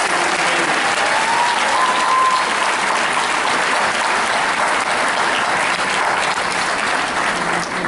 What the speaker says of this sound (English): I think we all should give them a big round of applause